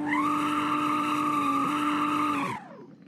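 A 2020 Lotus car in the Roblox game Driving Empire accelerates hard with a loud, sustained engine whine and tire squeal that holds steady and then cuts off abruptly near the end.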